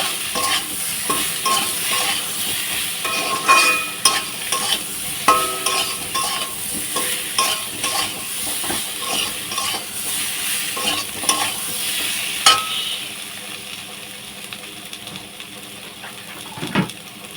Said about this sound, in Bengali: ভালোভাবে কিন্তু কষে নেবো